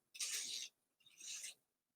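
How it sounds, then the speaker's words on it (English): A paper project being hand sanded, two separate scratchy rasping strokes, close and fairly quiet, with a short gap between them and no voices. "I'm going to do a little more sanding on this one."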